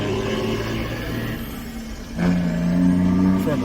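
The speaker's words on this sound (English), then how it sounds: "Truck is loud as hell." A loud truck rumbles past nearby, its engine swelling and growling louder partway through with a sustained low drone.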